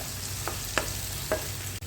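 Onions with curry leaves cooking in a pan at home in Oman, a steady faint sizzle broken by a few brief stirring scrapes and clicks, with no talk.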